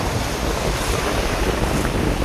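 Light wind sweeps over the sea from a small boat, a steady broad rush with wave wash and microphone buffeting, constant and fairly loud with no voices.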